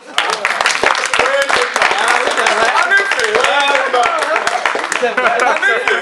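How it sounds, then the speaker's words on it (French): Audience applause at a tribute event honoring Aimé Césaire: dense, steady clapping sustained for several seconds, with a voice speaking over it throughout. "On l'applaudit très fort."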